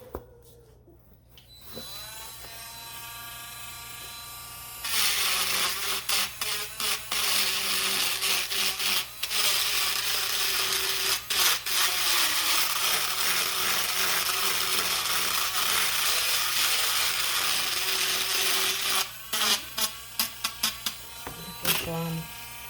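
Close, rough sanding or filing scrapes rapidly against the sharp corners of a large resin notebook, running in dense back-and-forth bursts with brief pauses, after a quiet start with a few spoken words.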